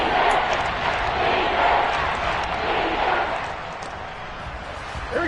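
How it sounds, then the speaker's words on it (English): A football stadium crowd at a Cincinnati versus Miami game roars steadily ahead of a big third down, a dense, continuous wash of cheering that eases slightly toward the end. "the crowd getting into it as we come up on a big 3rd down"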